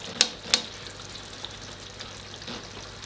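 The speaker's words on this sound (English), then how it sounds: "I'll give it a little stir. Make sure it doesn't coat on the bottom." Vegetarian moussaka filling gently sizzling in a pan while being stirred, with two sharp scraping clicks of the utensil early on over a soft, steady fry and no talking.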